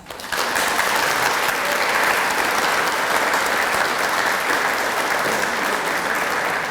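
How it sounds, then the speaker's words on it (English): Audience applause for students at the 2021 C-TEC honors ceremony, a steady, dense clapping that starts sharply and holds evenly throughout, loud and close with no talk over it. "you may recognize the accomplishment of these students with your applause"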